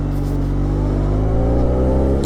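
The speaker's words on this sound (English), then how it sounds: "With the stock exhaust, it still sounds very throaty" A Benelli 502c motorcycle on its stock exhaust revs up close, a deep throaty engine note that climbs in pitch with rising harmonics, loud and alone.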